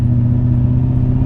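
A BMW E30 fitted with an M60 V8 engine on a test drive, heard as a steady, loud low engine drone with a constant hum from inside the car, no talking.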